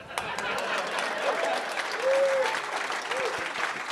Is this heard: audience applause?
yes